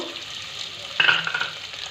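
Mashed potato is stirred into a spiced mixture frying in a pan, a close sizzle with a sharper scrape partway through, no voices.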